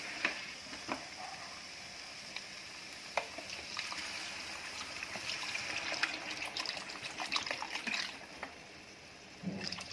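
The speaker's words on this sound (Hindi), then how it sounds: "अब इसमें हम पानी अंदाजे से डालेंगे।" About half a litre of water trickles and splashes into a pot of chicken curry, a soft continuous pour with occasional clinks and a gentle sizzle underneath.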